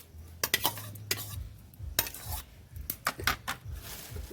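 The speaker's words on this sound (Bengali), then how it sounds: "একটু ঘেঁটে নেব" A spoon stirs sago pearls through warm water in a pan, making irregular scraping clinks against the metal and soft watery swishes, close and fairly quiet, with no one speaking.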